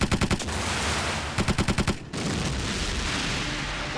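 Rapid bursts of automatic gunfire during an anime ship attack, loud and close, with two quick volleys of sharp repeated shots separated by a short gap, over a dense roaring background.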